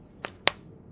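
Two sharp finger-joint cracks, a brief quiet pop followed by a louder one about a quarter second later, close up against a faint room background, with no one speaking.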